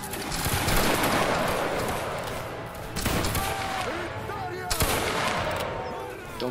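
Musket volley fire in the Napoleonic Wars video game, several loud crackling volleys of massed shots with echoing tails, bursts near the start, around the middle and later, with voices over the battle noise.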